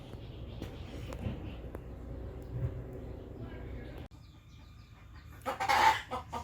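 A broody hen sitting on ring-necked pheasant eggs clucks softly and repeatedly in a quiet setting, with a louder flurry of clucking and rustling near the end.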